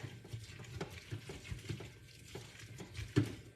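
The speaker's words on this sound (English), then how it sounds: "So we're just gonna stir this up" Food is stirred in an electric multi-cooker pot, giving quiet, rhythmic scraping and soft sloshing strokes at close range with no talking.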